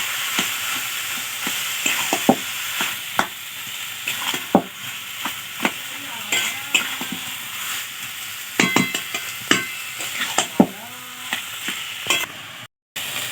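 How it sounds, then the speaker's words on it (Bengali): Taro leaves (kochu shak) being stir-fried with spices in a pan, a steady sizzle broken by frequent sharp scrapes and clacks of a spatula turning the leaves, close and loud. "এবার ভালোভাবে কষতে হবে, মশলাটা পাল্টে পাল্টে, যাতে মশলাটা পুরো কচু শাকটাতে লাগে।"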